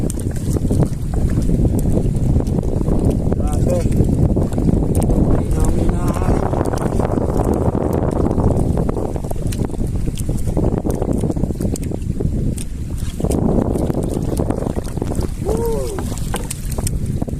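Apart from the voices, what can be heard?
strong wind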